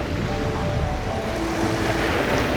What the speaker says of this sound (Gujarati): હવા વધારે છે એટલે જે મોજા છે ને પાણીના ઉપર સુધી ઉછળે છે